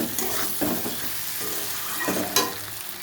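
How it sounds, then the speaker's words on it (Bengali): A kohlrabi curry stir-fries in a pan with a steady sizzle and occasional stirring scrapes, close and continuous, and water is added to the pan. "এবার আমি জল দেব।"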